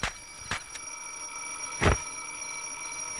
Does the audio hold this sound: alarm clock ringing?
yes